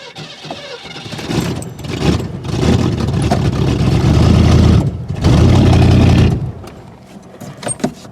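A Ford Granada engine running rough on poor fuel, rising from an uneven idle into two sustained revs around the middle of the clip before dropping back, loud and close with no speech.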